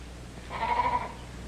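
A single sheep bleats once, a wavering mid-pitched call over a steady low background hum.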